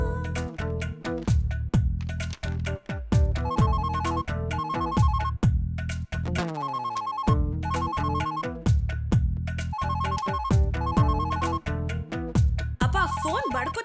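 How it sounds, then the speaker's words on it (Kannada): A telephone ringtone plays a repeating electronic melody with steady rhythmic pulses, loud and close, running continuously through the scene with no talk over it. "ಅಪ್ಪ ಫೋನ್ ಬಡ್ಕೋತಾನೆ, ರಿಸೀವ್ ಮಾಡ್ಬಾರ್ದಾ?"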